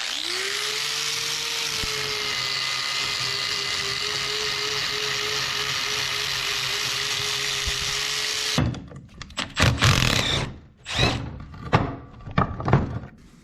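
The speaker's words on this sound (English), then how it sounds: "We're just gonna go wire wheel, get all this crud off of here" A power wire wheel grinding rust and crud off car tie rod ends, a sustained whining hum for several seconds, then cutting into short bursts and scrapes as it stops and starts.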